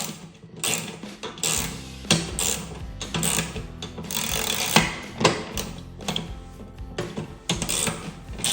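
A snowblower skid plate bolt with its washer being tightened, giving a run of close metallic clicking and ratcheting bursts in an uneven rhythm, fairly loud, with no talking.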